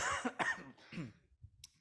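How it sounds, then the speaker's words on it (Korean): A preacher's coughs, several harsh bursts in quick succession, close and fairly quiet, trailing off into faint throat noises and a brief soft sound near the end. "기침이 나는 거예요"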